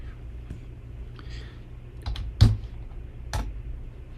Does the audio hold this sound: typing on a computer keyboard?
yes